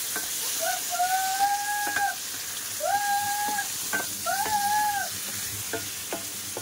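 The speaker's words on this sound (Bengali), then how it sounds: "ডিম দিয়ে একসাথে আবারও কষাই করবো।" Three eggs are stir-fried with masala in a pan, producing a constant sizzle with scraping stir clicks, while a few wavering tonal cries rise and fall in the background.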